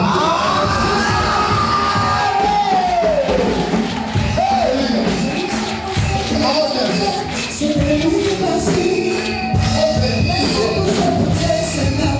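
Church congregation at a Sunday service cheering and shouting together, a loud sustained crowd roar with whoops and high voices rising over it, continuous throughout.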